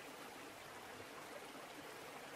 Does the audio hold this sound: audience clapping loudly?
no